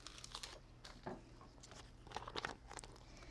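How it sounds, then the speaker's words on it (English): Transfer tape being lifted and handled, faint close crinkling and crackly tearing rustles in small irregular bursts over a quiet background. "So let's bring this transfer tape up."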